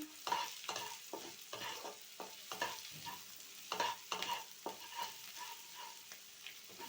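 Cumin and coriander powder sautéed with ginger paste in a pan, heard as soft sizzling broken by repeated scraping strokes of a spoon stirring the mixture, close and steady with no talk.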